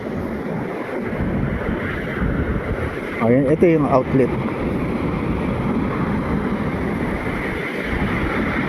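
Waves wash steadily against the shore at a river outlet under gusty wind buffeting the microphone, with someone speaking briefly in the middle.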